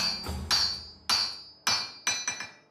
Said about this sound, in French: jamais ne cessent les bruits de la forge